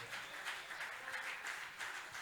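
A church congregation applauds steadily, a dense wash of many hands clapping at moderate distance, even and sustained throughout with no voices over it.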